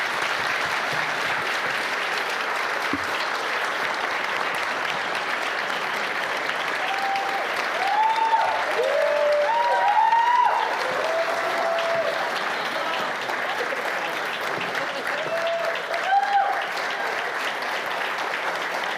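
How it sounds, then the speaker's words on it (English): Audience applause after third place is announced in audience votes at a startup demo day, a steady crowd clapping that holds for the whole stretch, with a few faint tonal sounds rising over it midway. "And well done on keeping that clapping going."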